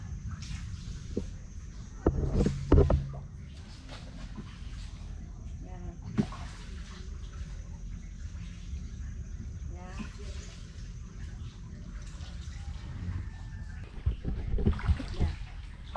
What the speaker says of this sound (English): So it's really peaceful just sitting here, paddling up and down the river.